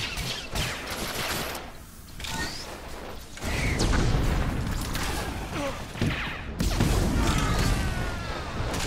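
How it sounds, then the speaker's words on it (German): Rakghoul creature exploding in Star Wars: The Old Republic at the siege of Kaon, heard as loud bursts and crunching impacts amid dense combat clatter and gunfire effects from the game. "Wow, wieder einer explodiert."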